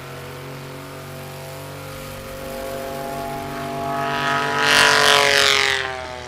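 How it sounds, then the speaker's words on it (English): Small propeller plane at a STOL short takeoff and landing practice event in the Appalachian Mountains, a droning engine swelling steadily louder as it nears and passes close by with a harsh roar, then easing slightly. "This is a loud plane."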